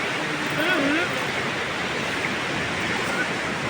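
Water rushes at Colva bridge in Goa, a steady, loud broadband roar with no breaks, with a faint voice briefly audible underneath.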